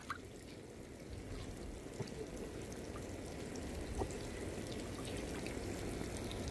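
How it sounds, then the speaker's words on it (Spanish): Water poured and splashed outdoors during a family Father's Day gathering, a steady low wash of trickling and dripping with a few soft splashes, faint and continuous with no talk. "Te voy a echar agua, mono, te voy a echar agua."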